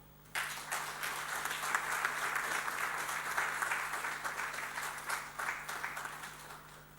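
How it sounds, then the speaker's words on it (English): A large audience at a formal ceremony breaks into sustained applause, dense clapping that starts abruptly, holds steady for several seconds and gradually thins, heard at a moderate distance without speech. "may I ask for another round of applause"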